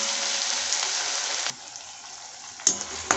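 Onions and tomatoes sautéing in a pan for a Tamil yam masiyal, a bright close sizzle that drops off abruptly midway, followed by a few sharp spoon clinks and brief bursts of frying.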